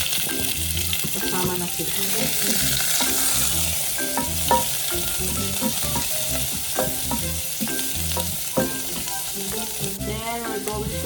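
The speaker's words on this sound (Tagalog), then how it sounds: "We'll saute the onion and the garlic again." Onion and garlic sautéing in a pan for palabok, a steady loud sizzle with spatula stirring scrapes throughout, while a person speaks briefly over the cooking.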